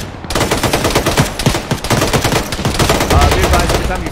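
Machine gun fire rattles continuously in the military game ArmA during a ShackTac squad session, dense, loud and close, with rapid overlapping bursts and voices faintly mixed underneath.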